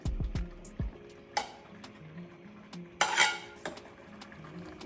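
Okra is dropped into a pot of cooking seafood soup, making a few clinks and knocks of a utensil against the pot and a short burst of splashing and sizzle, all close and fairly quiet.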